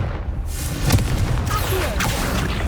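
A Confringo blasting spell going off in Hogwarts Legacy, with a couple of sharp booming bursts and whooshing rumble over a continuous low-end roar.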